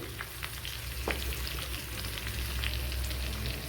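Dried red chillies and spices fry in hot oil in a pan for a curry, a loud, dense, continuous sizzle with small crackling pops throughout.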